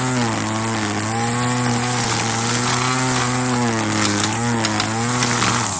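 A SEESII electric string trimmer runs steadily while edging, a loud, continuous motor whine with a strong even pitch that wavers only slightly, heard alone and close.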